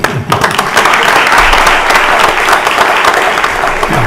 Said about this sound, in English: I'm going to give you a clap. If nobody else does, I'll clap for you.